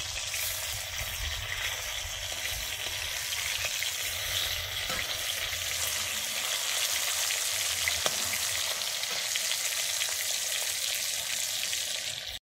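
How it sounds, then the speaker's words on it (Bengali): Pieces of rohu-type pona fish sizzle steadily in hot oil for a Bengali sour fish dish, a dense continuous crackle with scattered pops, loud and close, with no voices. "আমার মাছটা ভাজা হয়ে গেছে, মাছটা এবার নামিয়ে নিচ্ছি।"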